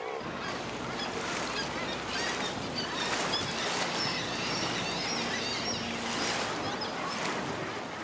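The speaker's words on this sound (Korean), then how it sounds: "바위에 모여 앉아 있는 엄청난 수의 새들." A huge flock of seabirds crowds the rocks on the wild Kamchatka coast, their calls merging into a loud, continuous, dense chorus of honks and cries that fills the whole stretch with no let-up.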